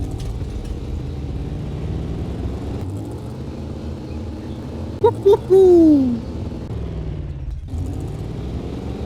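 A car engine in the game 7 Days To Die hums at a continuous idle, close and steady, while a man whoops briefly over it partway through.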